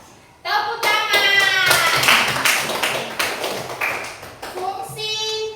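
Clapping in a classroom lesson on plant biology, a run of hand claps close by with a voice and harmonic calls over it through most of the stretch.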